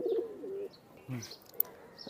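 Soft cooing from a golden pigeon with white eyes, a Pakistani-breed flying pigeon kept in a cage, comes in a few short low calls separated by pauses, with faint chirps and a brief rustle nearby.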